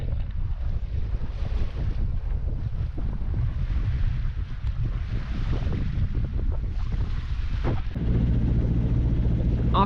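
Wind blowing across a sailboat under sail after its engine has been shut off after six hours of motoring, with gusting microphone buffeting, water swishing against the hull, and a low rumble that strengthens toward the end.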